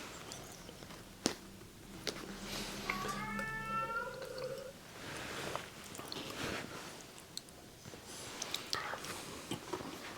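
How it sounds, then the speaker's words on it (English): A cat meows with a rising, stacked call lasting a couple of seconds, close by, amid quiet whispering and faint mouth and handling sounds at an ASMR beer and bar snack tasting. "Resident Cat."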